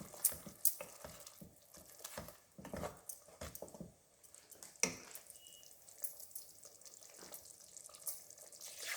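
A pan of fish curry is stirred with a utensil, soft scraping and clinking strokes with a light sizzle underneath, fairly close and quiet, with no talking.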